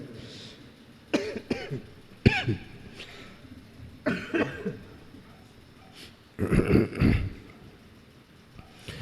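Several separate coughs and throat-clearing bursts from a man giving a religious discourse come at irregular intervals, close by, with a louder cluster of coughs near the end and quiet in between.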